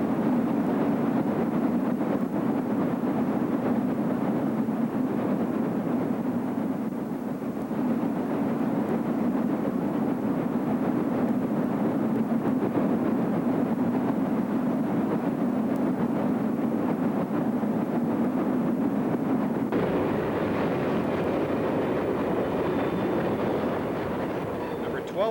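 Chesapeake and Ohio steam locomotive 1212 rolls past with a steady low rumble and a faint rhythmic rail clatter, a narrating voice running over it for much of the time.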